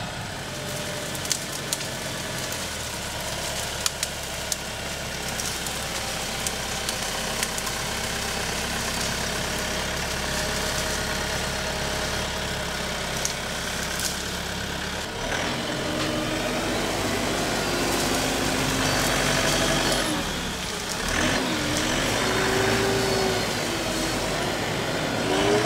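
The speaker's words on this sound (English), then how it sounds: "I'm gonna see if I can crush it with the tractor and see if I can shrink this up." A tractor engine runs steadily while crushing a pile of cut tree limbs, a continuous low mechanical drone with creaks and cracks of wood, rising in load partway through and staying fairly close.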